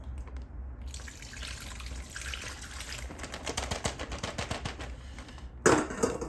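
Liquid poured out while cooking Kapampangan-style chicken inasal, a steady watery splashing stream running for several seconds with a brief sharper splash near the end, close by with no talk over it.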